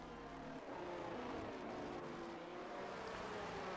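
A Haas Formula 1 car in an F1 racing video game pulls out onto the Hungary Grand Prix circuit, its engine droning steadily with a continuous mechanical whine and rumble, close and fairly loud throughout.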